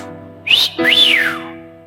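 A person whistles two short rising-and-falling notes, the second longer and sliding down, clear and close with no talking.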